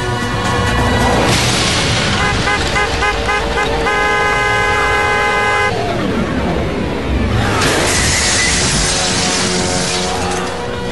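A BMW 7 Series in a James Bond car-chase stunt is launched by a nitrogen cannon and crashes: loud blaring horn tones, a heavy boom and shattering impacts, all dense and close.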